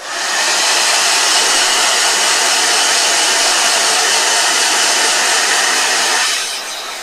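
A blow dryer running continuously at close range, a loud steady airy whoosh that stays even for several seconds before tapering off near the end.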